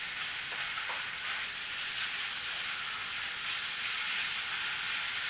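Pastrami frying in a pan with garlic, onion and jalapeño, giving a continuous dense sizzle close up that holds steady throughout without any speech.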